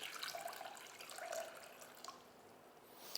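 Water poured into a container sitting on a kitchen scale while measuring twelve ounces for sourdough, a faint, steady trickling stream lasting a few seconds with no talk.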